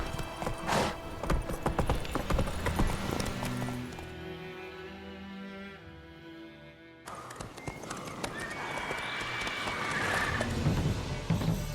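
Roach, a horse in The Witcher 3, gallops with steady clip-clopping hoofbeats, loud and near, broken by a short lull in the middle before the hooves pound on again.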